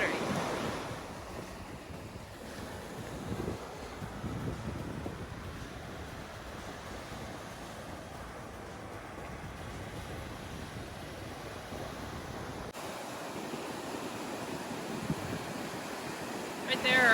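Ocean surf rolls steadily onto a rocky beach for the whole stretch, a continuous wash of breaking waves mixed with gusty wind buffeting the microphone.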